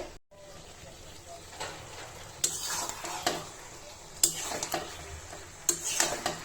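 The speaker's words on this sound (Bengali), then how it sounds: "দুন্দুলের তরকারিটা একটু কষানো হবে" A spoon scrapes and stirs through sponge gourd curry being sautéed in a pan, with occasional sharper clanks against the metal over a low steady cooking hiss.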